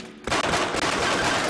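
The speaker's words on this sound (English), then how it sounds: "Here's somebody shooting a pistol." Pistol gunfire in a first-person shooter video game, a burst of rapid, loud shots layered over chaotic battle noise, with the cracks running together into a dense rattle that fills the short moment.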